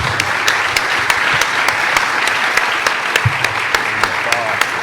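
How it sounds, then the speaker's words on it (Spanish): Audience applause for a panel on nonfiction, chronicle and journalism at a book fair, steady clapping from a hall with a few sharper claps standing out, loud throughout the clip. "Un fuerte aplauso para nuestra mesa."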